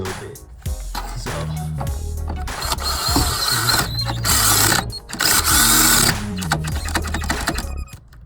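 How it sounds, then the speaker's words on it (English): A cordless power drill with a low battery bores with a small bit on a classic Cadillac, whirring in several short bursts that rise and stop, with ratcheting, uneven pitch between pulls. "and my drill battery is low"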